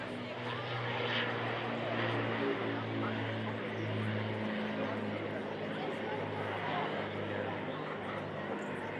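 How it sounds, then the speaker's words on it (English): Avro Lancaster bomber EA474, a four-propeller warbird, drones past at an airshow with a steady throbbing multi-engine roar, moderately distant and sustained throughout. "The Lancaster coming through, EA474, one of only two flying Lancasters in the world"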